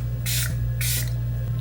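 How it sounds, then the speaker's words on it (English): Two quick, close hissing spritzes of a powder melting setting spray onto a face, with a steady low hum underneath. "I'm gonna spray my face with this One Size powder melting spray,"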